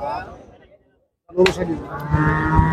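A cow at a cattle market lets out a short, loud low moo close by, with people talking around it.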